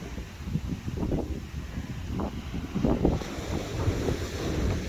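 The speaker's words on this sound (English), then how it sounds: "the waves are crashing against the beach" Waves breaking on a beach during a camping trip in Scotland, a steady rolling surf heard through heavy wind buffeting the microphone, with no talk.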